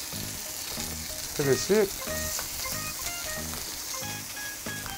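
Baby lamb ribs sizzle and crackle steadily in a frying pan over moderate heat. A voice speaks briefly over the close, continuous frying.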